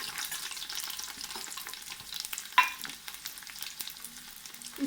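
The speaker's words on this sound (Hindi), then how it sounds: "इसमें हम अब डालते हैं प्याज को मैंने धो के काट लिया है।" Washed, chopped onions frying in oil in a pot for beef pulao, a soft steady sizzle with light crackles and one sharper splash of sound midway.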